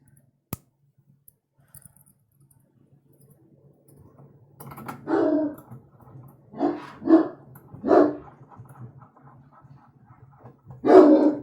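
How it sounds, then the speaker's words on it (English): A dog barks in bursts, about five sharp barks after a quiet stretch with a few faint clicks and a low hum, fairly close and loud. "the dog thinks we're being either robbed or assassinated or something"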